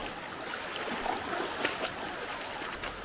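Cold mountain river Zeta in Montenegro flowing steadily, a broad continuous wash of rushing water with small splashy bursts, fairly close and unbroken for the whole stretch.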